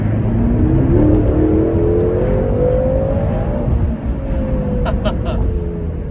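A BMW F13 M6 revving hard and accelerating through gears in Sports Plus mode, engine note climbing steadily toward high revs then dropping at a shift before rising again, loud and close from inside the car.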